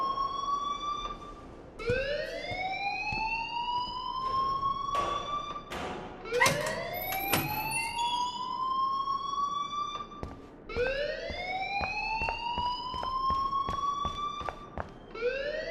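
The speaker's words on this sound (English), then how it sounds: "please turn off that alarm since that's your job" A loud, insistent fire alarm in the video game Life is Strange sounds in repeated rising wails, each sweeping upward and holding, mixed with occasional thumps and clicks in the scene.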